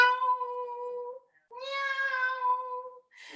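A voice imitating a cat, two drawn-out meows in a row, fairly clear and moderately loud, with a brief start of another sound at the end.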